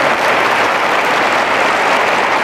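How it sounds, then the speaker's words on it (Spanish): A church congregation applauds in a continuous, loud burst of clapping that fills the whole moment without pause. "un aplauso a las mujeres que respetan al Señor"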